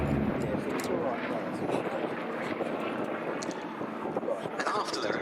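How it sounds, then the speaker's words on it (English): Steady drone of a Grumman Bearcat piston fighter flying at the Duxford air show, a continuous engine roar with wind rumble, and a narrator talking over it throughout. "even a stock Bearcat like this one is a very impressive performer"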